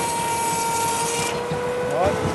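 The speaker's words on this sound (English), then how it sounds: "This is timber sawing Edwardian style." A powered Edwardian-style timber saw runs steadily as it cuts through wood, a loud continuous mechanical drone with a sustained tonal whine and a brief squeal near the end.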